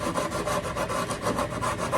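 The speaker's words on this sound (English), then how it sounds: "I've got a small sanding block here that I make out of wood," A small wooden sanding block with 120-grit paper rubs steadily along the side edges of a Takamine guitar under repair, making close, continuous scraping strokes in an even back-and-forth rhythm.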